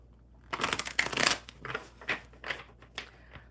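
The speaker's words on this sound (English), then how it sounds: "I will just start shuffling these cards." An Egyptian Tarot deck being shuffled by hand, a burst of quick riffling and sliding card noise followed by several shorter irregular shuffles, close and dry with no talk.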